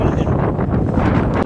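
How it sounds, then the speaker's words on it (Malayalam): Strong, gusty wind at Dhanushkodi beach buffets the microphone with a constant loud roar and rumble, with no speech over it. "ബാഗ് അടക്കം കാറ്റ് കൊണ്ട് ഇങ്ങോട്ട് അത്രക്കും വലിയ കാറ്റ്"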